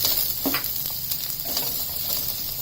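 Cashew nuts roast in onion gravy in a pan for shahi paneer, giving a steady close hiss of sizzling with a few soft stirring scrapes and no talking.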